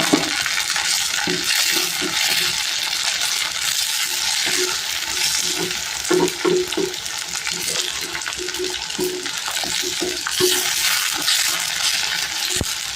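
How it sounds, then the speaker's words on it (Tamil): Tomatoes fry in oil for a fish curry, a continuous close sizzle with repeated metallic scrapes and taps of a spoon stirring the pan, steady throughout with no voices. "இப்போ நம்ம தக்காளியை சேர்த்துக்கலாங்க."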